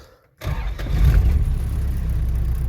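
A vehicle engine starts after a brief silence, a sharp crank that catches and settles into a loud, steady low idle close by.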